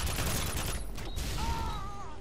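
A silenced RPD machine gun fires in Modern Warfare 2 on the Skidrow map, giving a continuous dense rattle of muffled automatic shots under game noise, with no talking.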